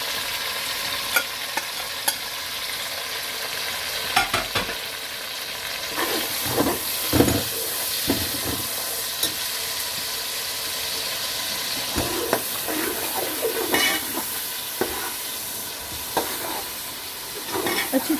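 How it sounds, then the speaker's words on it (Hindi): Ginger garlic paste and spices sizzling in oil in a pan for chana pulao, with steady frying hiss and repeated scraping stirs of a spatula against the metal, close and continuous. "जिंजर गार्लिक पेस्ट और सारे मसाले ऐड कर देंगे।"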